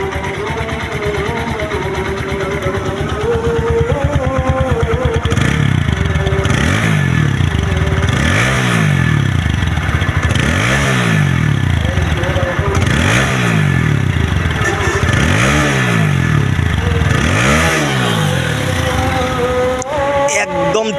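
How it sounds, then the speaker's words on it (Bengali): A TVS Apache 4V motorcycle with dual disc brakes and ABS, its engine idling loud and close with a buzzing clatter, then revved in a series of rising and falling surges. "সাউন্ড কোয়ালিটিটা দেখেন গাড়ি রানিং অবস্থায় আছে"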